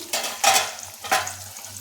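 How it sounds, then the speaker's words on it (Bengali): Paneer cubes fry in hot white oil in a kadai, giving close, crackling sizzle bursts in two or three short surges as the pieces are stirred, with no talking. "এখন পনিরগুলো ভেজে নিচ্ছি।"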